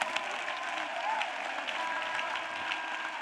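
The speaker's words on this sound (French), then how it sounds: "Acclamation à Jésus-Christ." A church congregation at a CRPPF 2024 healing gathering applauds steadily, a dense wash of clapping that fills the space evenly from start to finish with no clear voices on top.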